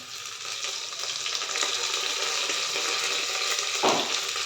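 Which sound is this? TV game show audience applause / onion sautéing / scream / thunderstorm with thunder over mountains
onion sautéing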